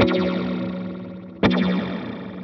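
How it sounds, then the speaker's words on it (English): A sustained guitar note through a BOSS TE-2 Tera Echo delay pedal with a wobbling, springy reverb shimmer, then a fresh strike around midway that rings out and slowly decays. "It's almost got that springy sort of boing sound to it."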